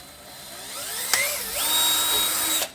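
A power drill bores holes through a plastic bracket for a subwoofer mount in a 2023 Toyota GR Corolla, the motor whining up in pitch as it spins, loud and close, for a couple of seconds before cutting off.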